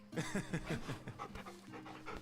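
A dog in the video game Final Fantasy XVI pants in quick, rhythmic breaths, close and steady, with no voices over it.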